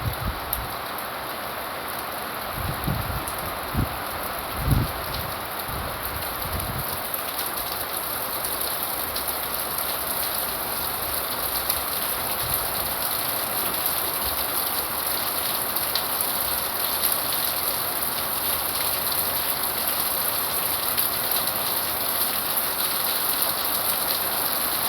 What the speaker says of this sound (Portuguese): E vou mostrar a chuva para vocês.